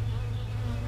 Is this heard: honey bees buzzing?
yes